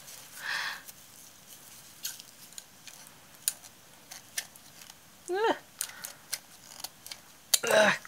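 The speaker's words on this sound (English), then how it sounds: "Scissors." Scissors snip through thin metal sheets during mixed-media canvas crafting, giving scattered sharp clicks and short cuts spread across the stretch, fairly close and quiet, with a brief voice and some handling noise between.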